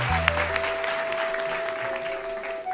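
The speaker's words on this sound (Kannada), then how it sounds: "ದೊಡ್ಡ ಚಪ್ಪಾಳೆ" An audience at a stage event breaks into loud, dense applause of many clapping hands, sustained evenly across the whole short stretch, with a steady tone sounding above it.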